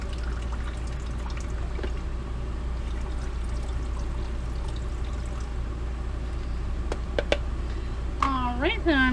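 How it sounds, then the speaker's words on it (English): Water pours steadily over Rice-A-Roni herb and butter rice in a pot, rinsing it in an RV kitchen; the liquid hiss runs throughout at moderate level, with a few brief clinks near the end. "I'll put the rice in here and I'm going to rinse it."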